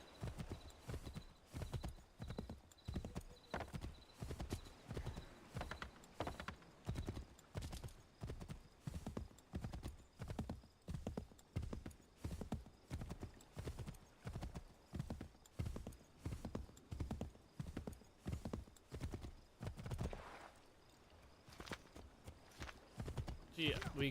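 Horse hooves in the Assassin's Creed III video game, a steady, rapid clip-clop of galloping hoofbeats running nearly continuously and close up, with a brief whinny mixed in and a voice talking over it.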